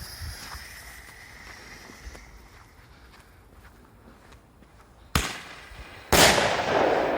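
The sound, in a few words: Hammer CAN20-5HAM roman candle fireworks with titanium effect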